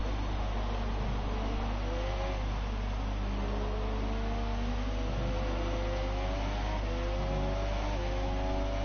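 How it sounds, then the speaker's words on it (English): Race cars hitting nearly 200 mph down the straight at a motorsport round in Mexico, a steady droning engine roar with rising and falling whines layered over a constant low hum. "you can see the cars here hitting nearly 200 miles per hour down the straight"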